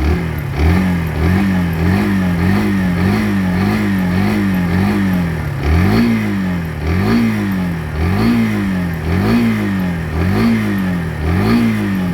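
A 2001 Kawasaki EL125 Eliminator motorcycle, still cold, idles and revs without choke; its engine note rises and falls in a steady pulsing rhythm, close and loud throughout, with no talk.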